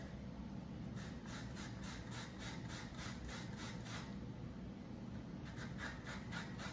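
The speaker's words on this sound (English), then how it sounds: "And I'll just shred it down till I get to a small piece" Fresh coconut meat being shredded by hand on a grater, a steady close rasping scrape repeated in quick even strokes, with a brief pause before the rhythm resumes.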